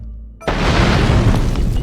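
A sudden, loud, booming video-game explosion blows up a character and bursts out of near silence, then rolls on as a heavy, sustained roar.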